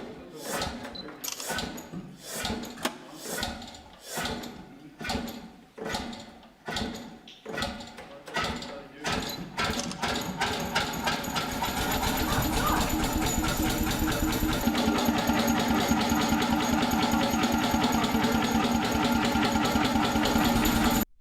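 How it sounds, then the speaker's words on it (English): An antique hot bulb engine, a large marine diesel, starts with slow, heavy, evenly spaced chuffs that quicken and merge into a steady, loud running drone. "After a few revolutions, the engine fires and begins running on its own."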